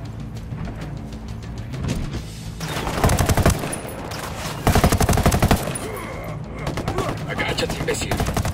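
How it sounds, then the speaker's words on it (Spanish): Rebels open fire in the tactical shooter Ghost Recon Wildlands, with loud, rapid bursts of automatic gunfire coming in repeated volleys over a rumbling background, some sharper clusters rising midway. "¡Nos disparan los rebeldes!"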